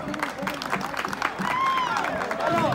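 A crowd at a rodeo tournament claps and cheers in the open air, moderately loud and a little distant, with a voice over the loudspeaker talking across it and some whistle-like tones.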